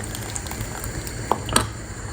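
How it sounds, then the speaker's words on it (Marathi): Rasam simmers in a pot over a low gas flame, a soft steady bubbling with a few small pops and crackles, close and unbroken by talk. "याला पाच ते सात मिनटं मी स्लो गॅसवर छान उकळू देईल"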